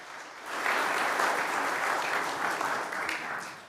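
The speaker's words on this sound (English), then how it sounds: "Round of applause for Teresa in there." Audience applause at a piano concert in a United Methodist church, a steady wash of clapping that starts after a brief quiet moment and holds moderately loud, with a few faint voices mixed in.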